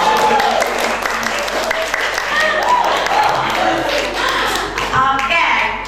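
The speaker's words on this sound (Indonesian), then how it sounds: "Tepuk tangan dulu." Audience clapping at a Talenta Banua talent show before some 1,500 spectators, a dense steady wash of many hands that holds for about six seconds with a few voices in the crowd.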